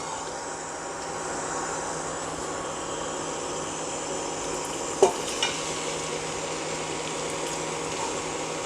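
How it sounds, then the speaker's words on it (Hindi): Sweet pumpkin frying in melted ghee for pumpkin halwa, a steady low sizzle and hiss throughout, with one sharp utensil clink midway, close and even, no voices. "घी गर्म होने पर हम लोग मीठा कद्दू डाल के उसे भूनेंगे।"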